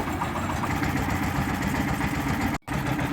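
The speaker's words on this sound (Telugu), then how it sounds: "మీకు చూడడం కోసం చూపించడం కోసం నేను ఈ విధంగా దీన్ని స్టార్ట్ చేసి చూపిస్తున్నాను" A brick making machine's engine runs steadily after starting, a loud continuous idling drone with a brief dropout near the end, no voices.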